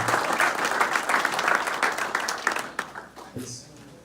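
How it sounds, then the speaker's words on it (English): Audience applause at a men's forum, a dense sustained wash of clapping from a large crowd that thins and tapers off near the end. "Everybody stand up and give the speakers before me a round of applause"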